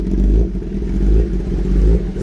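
Kawasaki ZX-10RR superbike engine revving up close, a deep throbbing idle rising into a couple of quick throttle blips and falling back, loud and alone.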